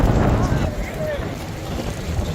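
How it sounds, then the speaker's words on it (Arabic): Strong wind gusting over the microphone at Masjid al-Haram in Makkah during heavy rain, a loud, broad rushing roar that eases slightly after the first second, with faint voices underneath. "في هواء شديد والله وبرد"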